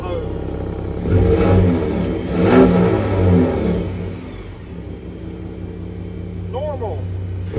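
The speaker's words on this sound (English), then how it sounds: "We just want to turn the vehicle on so you can hear that exhaust." A 2021 Gen 3 Ford Raptor in Iconic Silver with an exhaust package, running in quiet mode. A low, muted exhaust rumble swells with a couple of short revs, then settles to a steady idle, with a voice talking briefly near the end.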